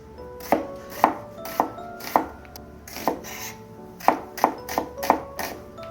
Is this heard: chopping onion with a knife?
yes